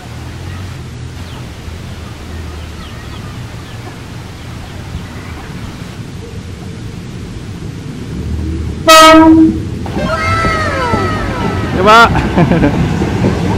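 A loud train horn blasts twice, a long harmonic blare followed by a shorter one, over the rumble of a passing ten-car train from Cileunyi station, Indonesia, with a brief spoken word earlier.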